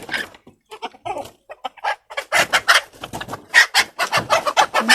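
Native desi chickens cluck loudly and excitedly in rapid irregular bursts as another hen comes in from outside, the calls growing denser and louder near the end.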